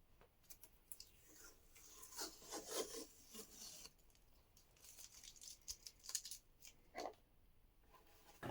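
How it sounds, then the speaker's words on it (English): A hand file rasps back and forth as it tapers drilled holes in wood for a Germanic lyre, quiet irregular scraping strokes with brief pauses between bursts. "I proceeded to taper the holes with a file"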